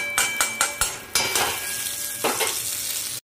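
Cumin, dried chilli and bay leaf dropped into hot oil for a fish-head chhyachra, bright sizzling and frying with a few quick clinks of a spoon against the pan at first, then steady crackle alone.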